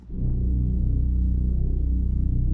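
An edgy synth bass sustains a low, buzzy, rumbling tone with a steady pulsing texture, loud and close, with no voices over it.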